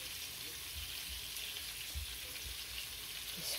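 Flour-coated fish frying in a pan, a steady faint hiss and crackle of oil running throughout, with a few soft low bumps under it.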